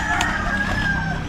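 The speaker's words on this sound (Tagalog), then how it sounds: "daming manok guys" Chickens cluck nearby and a rooster crows, a drawn-out call over a busy outdoor background.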